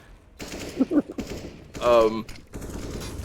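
In a CS:GO match, pistol shots trade with AK rifle fire in quick, sharp bursts at close range, several cracks clustered together, with the caster's voice heard over the action.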